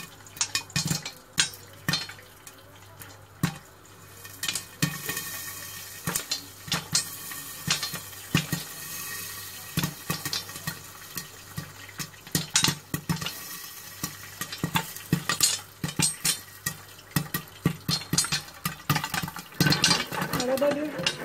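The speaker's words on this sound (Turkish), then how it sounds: "Evet, patlamaya başladı mısırlarımız. Şimdi tencere dolana kadar patlayacaklar." Popcorn kernels pop sharply and irregularly inside a pot on a stove, the pops growing denser over time, with an occasional voice and a low hum beneath.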